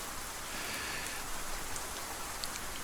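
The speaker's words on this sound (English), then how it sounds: "surprisingly it is raining." Steady rain falls at Kandahar Air Base in the DCS flight simulator, a soft continuous hiss with a few faint droplet taps, fairly quiet and with no speech.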